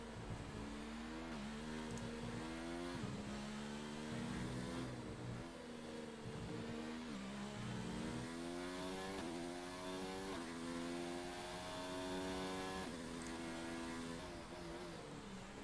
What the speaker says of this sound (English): hear that engine, Mercedes engine of Williams